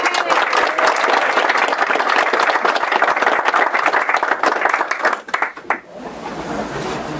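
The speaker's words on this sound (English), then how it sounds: "So let's give him a round of applause." Round of applause from a crowd at an author's book event, dense steady clapping for several seconds that thins and fades out into room quiet near the end.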